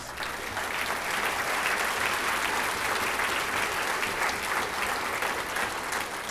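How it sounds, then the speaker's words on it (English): A school district event audience applauds steadily, a dense wash of clapping that holds at an even, loud level throughout with no talking. "let us give you a round of applause"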